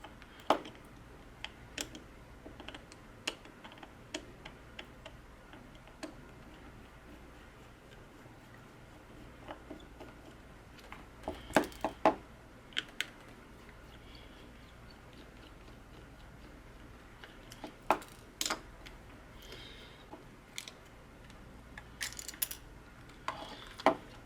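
Small Phillips screws being undone on a Sony FDR-X1000V 4K action camera: faint, sparse ticks and clicks of a tiny screwdriver come close against a quiet background, irregular, with brief bursts of handling noise.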